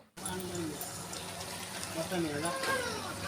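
Water is poured from a small bowl into a pan of small-fish curry with vegetables, a steady liquid fill heard close and fairly loud throughout, with voices in the background.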